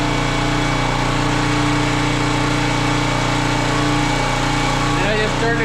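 A small tractor engine runs steadily with its fuel shut off, a loud continuous droning idle with a strong low hum that holds unchanged throughout, with a brief irregular sputter near the end.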